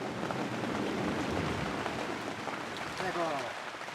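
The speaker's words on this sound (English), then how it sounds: "During the monsoon, it could rain for 8 hours a day." Steady monsoon rain pours over a roadside in China, a dense continuous hiss of drops hitting surfaces, heavy and unbroken throughout, with faint voices murmuring underneath near the end.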